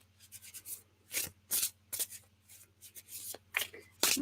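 Tarot cards being shuffled close by, heard as repeated soft riffling bursts at an uneven rhythm over a low hum.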